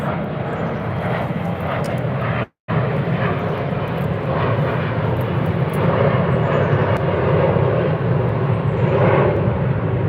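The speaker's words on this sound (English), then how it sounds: "Wait for that plane to pass by so I don't gotta yell." A fixed-wing airplane passes overhead near a lake during live bass and catfish fishing, its steady broad engine roar filling the scene loudly, with one brief dropout partway through.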